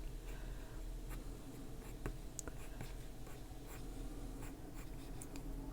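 Colored pencil strokes scratch on paper while hair strands are drawn, a close, quiet series of quick, light scratches and taps over a soft, steady background.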